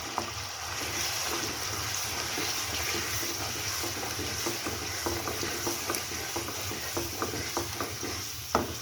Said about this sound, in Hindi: देखिए हमारा चिकन और प्याज बहुत अच्छी तरह फ्राई हो रहे हैं